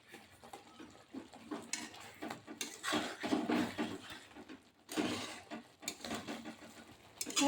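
Fried cabbage and cauliflower Manchurian balls being tossed and mixed into a thick gravy in a pan, with intermittent scraping, clattering and wet squelching bursts of varying loudness, close by and without talk.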